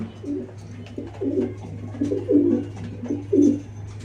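Racing pigeons coo close by in repeated, throaty bursts roughly every second, over a constant low hum.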